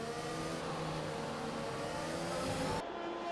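F1 race car engine from the F1 2021 video game, a steady loud whine held through the clip at the Hungary circuit in wet conditions, dropping abruptly near the end with no one talking.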